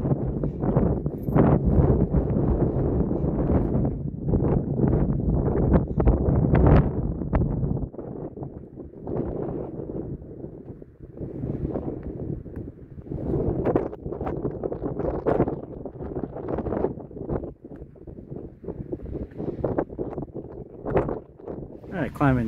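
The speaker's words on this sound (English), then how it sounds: "Windy up here. Super windy." Strong gusting wind buffets the microphone on an exposed mountain summit over 4,900 feet high in the White Mountains, a loud, continuous roar with surging gusts throughout, with brief speech mixed in.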